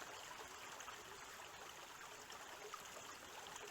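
Water flows steadily out of the cap of a CNOC Dirty Bag water bag held low, a soft continuous trickle and hiss that stays even throughout with no talking.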